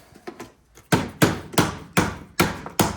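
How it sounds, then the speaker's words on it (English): A small hammer taps an aluminum door frame in a steady rhythm, six sharp ringing strikes about half a second apart, preceded by a few lighter taps. "sometimes you can grab the end or take a little hammer"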